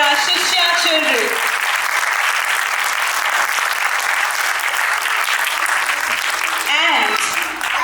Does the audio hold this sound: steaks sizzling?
no